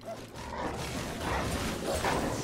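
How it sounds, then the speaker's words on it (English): Dogs snarling and yelping in a fight in the video game Titan Quest: Anniversary Edition, dense barking and growls over game clatter, steady and loud with no pauses. "Dog on dog violence."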